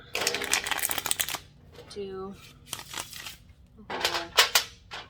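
Tarot cards shuffled by hand in quick riffling bursts, close and crisp, separated by pauses in which a person speaks.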